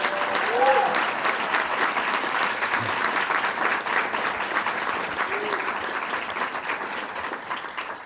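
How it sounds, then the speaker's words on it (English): A crowd applauds at a climate change event for a nominee as state environmental commissioner, steady dense clapping filling the whole stretch at full strength, with faint murmurs and a brief whoop mixed in. "So let's give him a round of applause."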